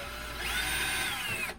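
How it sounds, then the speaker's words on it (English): A power drill whines steadily as it bores out a slightly undersized hole in the front end of a Ford Foxbody Mustang, a loud continuous drilling sound that winds down at the end. "drill it out ever so slightly."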